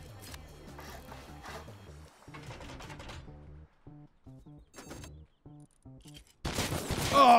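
Automated VIP turrets fire in the survival video game Rust, a run of rapid gunshot bursts broken by short pauses, with a louder, denser blast of gunfire near the end.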